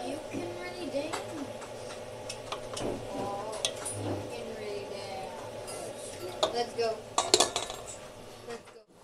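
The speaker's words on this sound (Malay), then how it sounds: "Marilah kita kacau ya kita punya masakan ni" Metal utensil clinks and scrapes against a cooking pot of simmering chicken curry with chili in irregular bursts, growing busier toward the end, with faint background noise.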